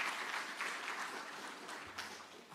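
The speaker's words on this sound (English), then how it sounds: "Please a clap for them in absentia." An audience at a university innovation and exhibition week gives a round of applause, a moderate, fairly distant patter of many hands clapping that gradually softens, with no talking over it.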